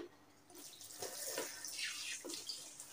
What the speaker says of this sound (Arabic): هسه شنو اسوي احطه بالمي